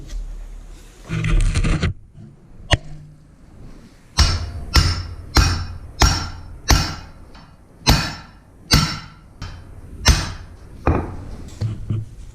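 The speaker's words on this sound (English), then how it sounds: "we'll drive it in until this groove in this pin lines up with our retainer bolt hole" A pin being hammered into a John Deere 750 drill opener during a rebuild: a steady series of about a dozen sharp, close metal-on-metal strikes, following a brief burst of handling noise at the start.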